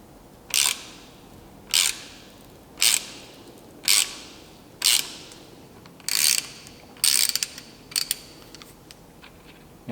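A 3/8 inch ratchet turns an NPT tap into a Honda fork for an air-assist delete, giving about eight close, crisp bursts of ratcheting clicks, each roughly a second apart, with no talk.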